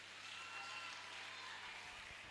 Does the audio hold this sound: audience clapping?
yes